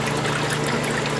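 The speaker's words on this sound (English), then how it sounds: "So the water's pumping the water up into the manifold." Steady rushing water from an aquaponics pump pushing flow up into a plumbing manifold, a continuous close trickling wash with no pauses.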